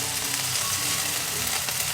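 Motsu offal fries in a pan with a sweet Thai sauce, a steady close crackling sizzle running continuously with no talk.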